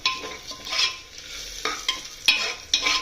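Onions fry in a pan, giving a continuous sizzle that is interrupted by sharp scraping and clinking from stirring, close and fairly loud.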